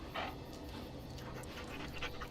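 A dog in the video game Dragon Age: Origins pants excitedly in quick, breathy bursts, close and fairly quiet, over a soft game background.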